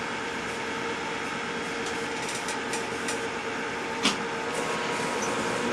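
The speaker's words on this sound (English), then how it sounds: "This lathe will sit here and run as long as I" A glass lathe running an automatic cycle hums and whirs steadily up close, with faint intermittent clicks and one brief sharp tap partway through, no voices.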